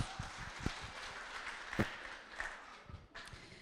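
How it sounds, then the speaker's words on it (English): Guests at a wedding reception give a round of applause after a speech, a faint, distant wash of many hands clapping with a few sharper claps and thumps standing out. "You are, yes, round of applause"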